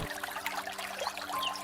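Water pours steadily from a vessel for making tea, a close, continuous trickling stream with no voices.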